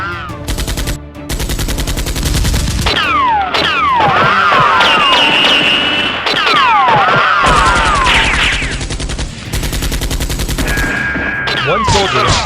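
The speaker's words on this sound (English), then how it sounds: "One soldier was shot dead by the 2 SWAT officers." Loud, sustained bursts of gunfire in a Nerf gun battle sound like rapid machine-gun volleys, with whistling sweeps and brief gaps between the barrages.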